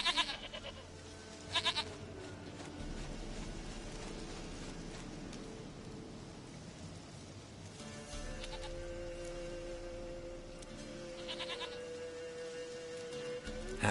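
A goat bleats in the medieval fantasy video game The Witcher 3, its bleats coming in short bursts over a steady background of ambient game sound and soft rain-like noise.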